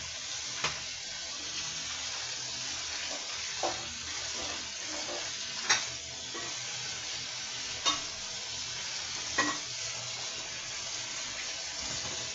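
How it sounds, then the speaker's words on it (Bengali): Gati kochu (taro) frying in oil with turmeric: a soft, steady sizzle with occasional stirring clicks and scrapes spread through, fairly quiet and close, no voices. "তেল দিয়ে হলুদ দিয়ে একটু ভেজে নিব"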